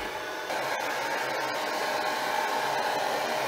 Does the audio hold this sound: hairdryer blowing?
yes